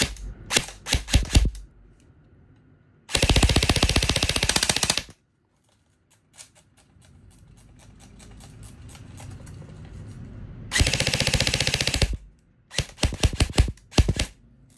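An E&C 620 MK18 Block II airsoft AEG rifle fires in bursts: several quick rapid volleys, two longer sustained strings of automatic fire, then more short bursts, loud and close with a quiet pause between.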